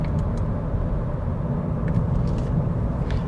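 A 2022 Honda Civic Touring with its 4-cylinder engine being driven under paddle shifting, a loud, steady engine drone and road rumble heard from inside the cabin for a few seconds.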